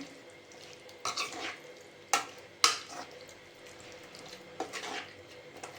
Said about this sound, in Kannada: ಇವಾಗ ಸ್ವಲ್ಪ ನೀರು ಹಾಕ್ಕೊಂಡು